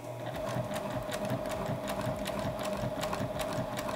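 Sewing machine stitching around the edge of a small fabric pouch, a fast steady mechanical whir with rapid needle ticks, loud and close throughout.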